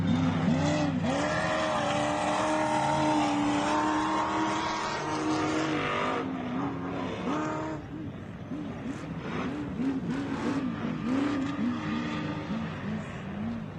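Ultra4 off-road race cars of the 4800 G2 Legends class roar around a course, loud engines revving and shifting with repeated rising and falling pitch sweeps as cars pass and accelerate, with tire noise and a brief voice in the mix.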